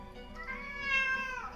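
A domestic cat gives one drawn-out, rising and falling meow, close and fairly quiet, lasting over a second.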